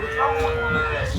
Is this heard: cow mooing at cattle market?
yes